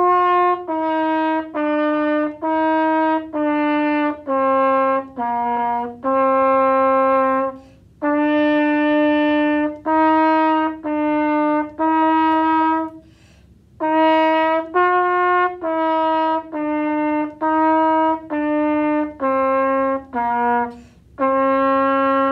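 A trumpet plays a simple beginner song exercise: a long run of separate, clean sustained notes with small gaps, steady pulse and brief breath pauses, alone and close.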